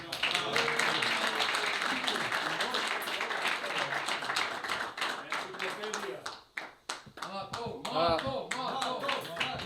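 An audience at a gathering of FK Teteks and FK Ljuboten football veterans in Tetovo gives a warm round of applause, with steady clapping mixed with talking voices that thins into scattered claps and continued speech.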